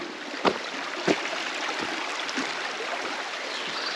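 A small creek flowing through the Sunol Wilderness gives a steady, soft rushing wash, with a few sharper splashes or taps standing out near the start and no voices.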